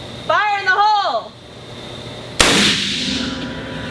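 RN-50 .50 caliber rifle test fired outdoors: a single sudden, very loud blast with a ringing decay, following a voice briefly speaking beforehand.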